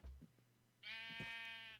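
A single sheep bleats in the video game Minecraft, one sustained nasal bleat of about a second, clear and fairly close, after a few soft thuds and footstep-like taps.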